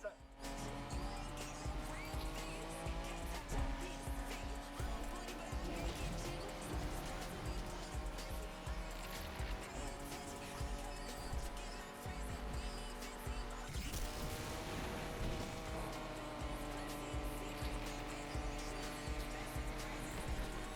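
A car accelerates hard during a chase in the video game Need for Speed Unbound, its engine roaring steadily and loudly for the whole stretch, with brief tire squeals and a dense game soundtrack layered underneath.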